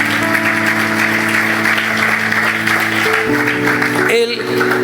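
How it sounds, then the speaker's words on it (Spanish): A church congregation claps in steady applause of praise, loud and continuous, while a voice speaks over sustained organ or keyboard chords. "Dele ese aplauso de alabanza a Jesús."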